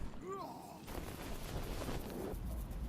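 Gunfire rattles in the zombie game Deadlight, a burst of rapid shots lasting about a second and a half. A short vocal sound comes just before it, and a low game rumble sits underneath.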